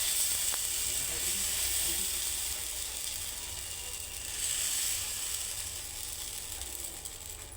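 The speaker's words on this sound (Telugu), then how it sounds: "ఇప్పుడు మనం ఇలా పిండి వేసుకుందాం" Rice dosa batter for an egg dosa spreads on a hot pan with a soft, steady sizzle and hiss that rises and falls slightly, with faint low hum underneath.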